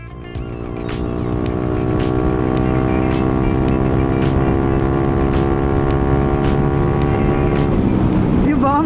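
An Italjet Dragster 200 Limited Edition scooter pulls away from a stop, its engine note rising and then holding steady and loud over several seconds, with wind noise and a brief shift near the end.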